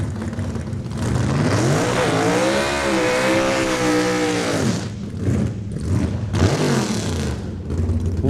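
A 1966 Chevelle race car runs down the drag strip at Saskatchewan International Raceway, its engine roaring loud and steady as revs climb and hold, then breaking into shifting, fading bursts as it pulls away.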